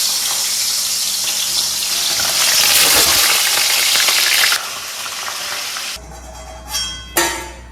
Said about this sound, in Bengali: তেলটা গরম হয়ে গিয়েছে। এবার মাছগুলোকে ছেড়ে দিই, মানে মাথাগুলোকে এরকম আস্তে আস্তে দিচ্ছি।